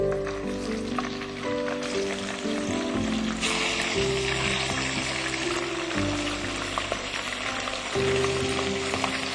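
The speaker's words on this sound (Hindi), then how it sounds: "हम दोबारा फ्राई करेंगे" Half-fried chicken for fry butter chicken is being fried a second time, producing a steady, close bubbling sizzle of hot oil that runs throughout with no talk.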